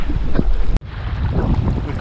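Jet skis circle near a sea kayak off the Cornish coast, their engines a distant drone buried under heavy wind buffeting and water noise, with a brief dropout partway through.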